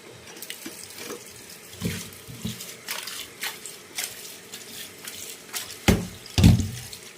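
Running tap water splashing over chicken pieces being washed in a sink, a steady close stream with a few louder splashes and clatters near the end, no talking.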